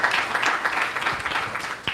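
An audience at a hackathon final demo event claps together in a steady wash of applause throughout the moment, with a few sharper individual claps near the end.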